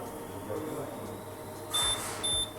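Two short electronic alarm beeps from a static transfer switch as its source 1 is switched off, a second or so apart, fairly close over quiet room noise and faint background voices.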